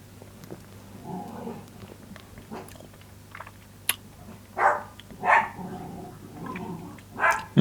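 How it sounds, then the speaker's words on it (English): Dogs play in the background indoors, with scattered gnawing, growling and short bursts of rough vocal yelps toward the end, moderately close over a low steady hum, no talking. "I'll just let the dogs kill themselves in the background while I'm saying this."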